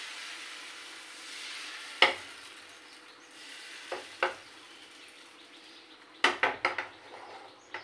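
Oil sizzles steadily in a pan while a spoon stirs and spreads flatbread batter, with a few sharp metallic scrapes and clinks against the pan.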